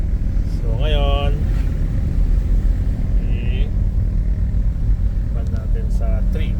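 Engine hum and road rumble inside a 2025 Toyota Grandia GL van with automatic transmission, driven in manual mode in third gear behind a motorcycle, a steady low drone with a speaking voice heard briefly over it.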